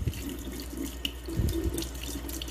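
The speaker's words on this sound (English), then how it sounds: "then from there you just run some water through it" Water from a tap runs steadily through a kitchen strainer while hardy kiwi seeds are rinsed, a close, even splashing rush with a few brief spatters.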